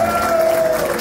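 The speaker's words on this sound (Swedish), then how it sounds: "applåd till er." Applause and light cheering from a jazz club concert audience fill the room, a continuous broadband clapping texture with a sustained ringing tone held underneath.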